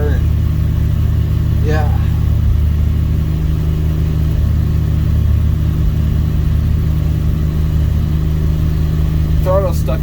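Dodge D100 truck engine idling at night after a cold start, a loud, steady low rumble throughout, with a couple of brief squeaky sounds and a short spoken word over it.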